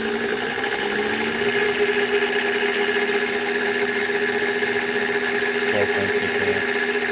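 A three-phase electric motor runs on single-phase power through a variable frequency drive, giving a steady, loud electrical whine with several sustained tones and a constant hum. Near the end there is a faint brief shift in pitch.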